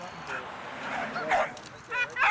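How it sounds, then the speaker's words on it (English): Dog heard close by, giving short yips and whimpery barks in uneven bursts mixed in with talking. "Alright, let's lose the dog"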